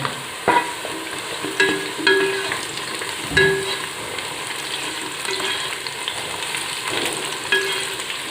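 Diced capsicum fries in a hot pan with cardamom and cloves, a steady sizzle broken by repeated stirring scrapes and clacks at irregular intervals, close and loud with no talking.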